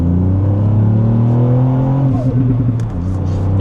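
A 2020 Ford Fiesta ST with a 1.5-litre three-cylinder engine revs close by, a loud droning engine note that rises and then settles back, with someone talking over it.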